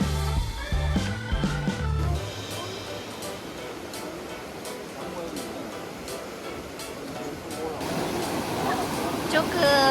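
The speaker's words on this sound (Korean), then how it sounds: "조그한 폭포에 물 떨어지는 소리" Water spills from a small waterfall beside a mountain stream, a continuous broadband rush that swells slightly toward the end, with a few brief voiced sounds near the start.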